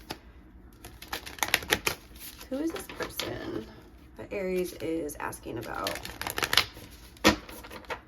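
Tarot cards are shuffled in quick bursts of crisp riffling and flicking, close by, while someone talks in between and over the shuffling.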